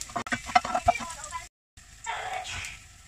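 Ginger hits hot cooking oil in a pan, a quiet close sizzle with scraping stirring clicks, then a brief gap before a softer hiss resumes.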